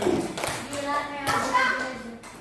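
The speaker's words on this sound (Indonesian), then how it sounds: "Tepuk tangan kelompok." A group of schoolchildren in a classroom clap together in short, close rhythmic bursts, mixed with children's voices chattering nearby.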